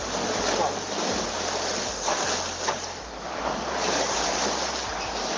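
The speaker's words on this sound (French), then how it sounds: "le vent monte bien là" Strong wind rises over a heavy ocean swell far out at sea, a steady loud roar of rushing air and breaking waves with deep gusty rumble throughout.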